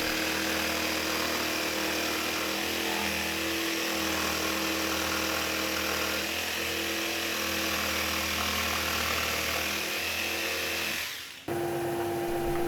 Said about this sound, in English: I can then cut close to the line using a jigsaw